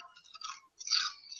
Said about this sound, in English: I heard the crunch. It's crunchy.